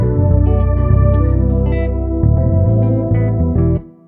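Layered synth string transition made in FL Studio, a dense sustained chord pad with bass underneath that shifts chords several times, loud and continuous before cutting off near the end, no talking.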